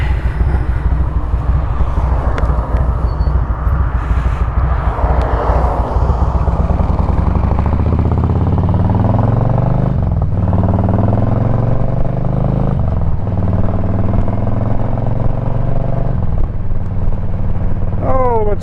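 An Indian Pursuit motorcycle engine under way, heard as a loud, continuous low rumble with wind buffeting and shifting engine pitch as it rides along, and a voice talking faintly over it at times.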